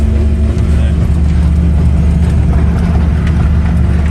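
A John Deere Gator utility vehicle drives across a farm, its engine giving a steady, fairly loud low drone that holds evenly from start to finish.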